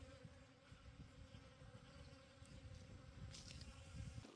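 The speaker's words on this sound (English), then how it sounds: "there are hundreds of bees outside right now" Hundreds of bees swarm outside a desert campsite, their low droning buzz forming a steady, faint hum that swells slightly toward the end, heard from nearby without any talk.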